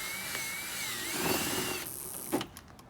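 A power drill whirring as it tightens bolts on a drill-powered pedal car, giving a steady mid-pitched whine that shifts tone and then stops with a brief clatter.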